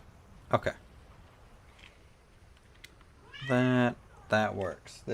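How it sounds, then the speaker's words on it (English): A pet cat meows loudly and close by, one short call followed by two longer drawn-out meows near the end, with quiet room sound in between. "This little cat, so mad."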